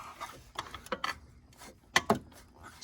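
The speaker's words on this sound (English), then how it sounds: "we take the wrench, put it on the crank pulley" A wrench on the crank pulley of an Audi 2.0T engine, giving a few faint, close metallic clicks and clunks in short irregular bursts, with no talking.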